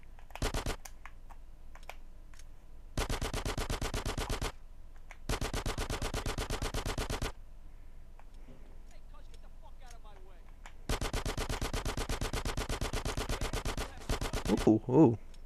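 Automatic gunfire in GTA 5, several long rapid bursts of evenly spaced shots separated by short pauses, loud and close.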